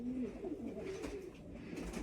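Pigeons of show breeds coo in soft, low, warbling calls close by, a few overlapping phrases over quiet background noise.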